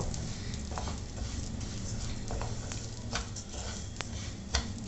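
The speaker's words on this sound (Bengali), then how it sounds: "ঘি দিয়ে আমি চালটা ভালো করে একবার ভেজে নেব" Rice fries in ghee in a pan, a faint soft sizzle under light scattered ticks and taps from stirring, with no voices.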